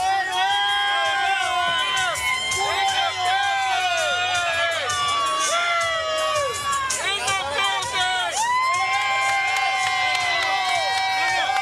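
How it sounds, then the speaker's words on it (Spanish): A boxing arena crowd cheers and applauds the winner after a Raul Felix vs Giovanni Chan bout, a steady roar of shouts, whoops and clapping, loud and continuous, with an announcer talking over it. "El público entregándosele al victorioso Giovanni Chang. Un grande aplauso."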